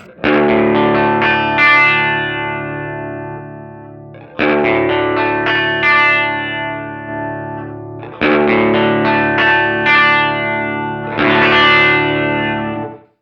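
An electric guitar through a Geminos doubler and 1776 limiter pedal, with a thick doubled, compressed tone, strums chords in three sustained phrases, each ringing and slowly fading before the next.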